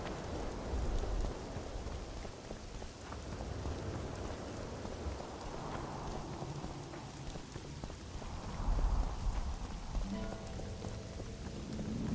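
Steady, dense rainfall in The Witcher 2 hisses and patters across the scene, with a low rumble and a few heavier gusts swelling in the wash of droplets.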